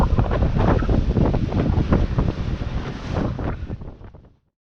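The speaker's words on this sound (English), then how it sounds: "The wind is picking up" Strong wind buffets a small tinny boat at night off Fraser Island, producing a loud, continuous rumbling roar of wind noise on the microphone with choppy water beneath, before it cuts off abruptly.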